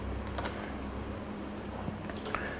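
Rapid typing on a computer keyboard, a close, steady run of light key clicks with a few louder taps near the end, no voices.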